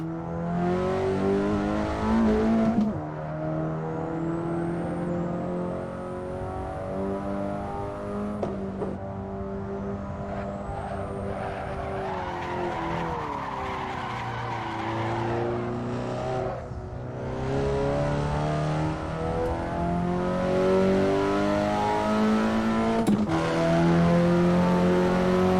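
A racing video game car played with a Logitech G923 steering wheel and shifter revs and drifts, its engine tones rising and falling steadily for the whole stretch, loud and continuous with brief tire squeals.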